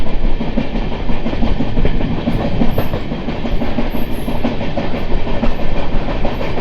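Continuous loud rumble of the 12603 Charlapalli Superfast Express from MGR Chennai Central racing along the track, with clattering wheels on rail joints and no voices.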